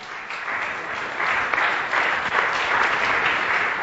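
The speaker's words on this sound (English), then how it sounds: "Now please give this gentleman a big round of applause." An audience at a business talk claps on cue for a man, producing a steady, full round of applause that swells slightly and holds without any voices over it.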